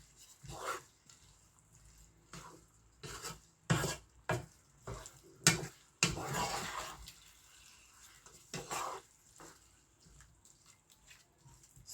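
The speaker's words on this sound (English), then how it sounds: "So now I'll give it a good stir." Ground meat is stirred in a cooking pot for a potato porridge and beef dish, producing scattered scraping and clanking strokes with wet, squelchy bursts at an uneven rhythm, close and moderately loud.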